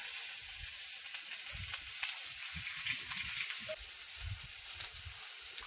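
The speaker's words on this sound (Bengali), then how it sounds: "মাছ ভাজার তেলে পেঁয়াজ দিয়ে দিলাম," Onions sizzle in oil left over from frying pangas fish, a steady close crackle with soft periodic stirring scrapes and no voices.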